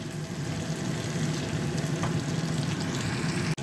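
Spice paste of chilli, turmeric, salt and sugar sizzles and fries steadily in hot oil with potatoes for green banana kofta curry, a constant close crackling hiss with no talk.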